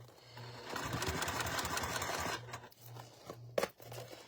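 A sewing machine stitches clear vinyl nearby in a steady mechanical whir, then pauses and gives a few short bursts and a sharp clack, with no talk over it.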